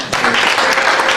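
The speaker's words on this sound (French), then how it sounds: "C'est comme ça qu'on acclame chez vous." A church congregation applauds and cheers loudly in a steady, dense wash of clapping and voices, with no break through the short stretch.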